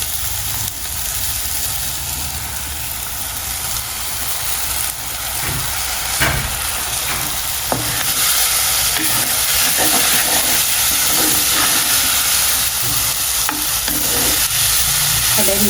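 Banana blossom stir-fried in hot oil for a Sri Lankan tempered dish, giving a loud, steady sizzle and hiss with occasional stirring scrapes throughout, no voices.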